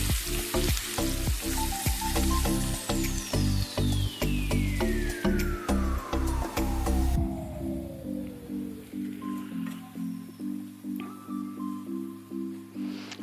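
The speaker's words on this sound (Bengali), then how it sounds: "ফোড়নে দেওয়ার পর এখানেও আমি বেশ কিছুটা পেঁয়াজ দিয়ে দিচ্ছি।" Sliced onions fry in hot oil with whole spices, a steady sizzle under repeated rhythmic stirring and scraping, with a bright descending tone sweeping through the first half before the frying settles quieter.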